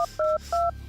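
Touch-tone telephone dialing to call hotel reception, three loud, clean two-tone beeps in quick succession, close and clear over a low background hum.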